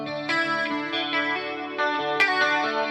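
An electric guitar runs straight without an amp through an 80s-style chorus effect, playing a few clean, shimmering chords and notes with a wide, swirling modulation and slight echo.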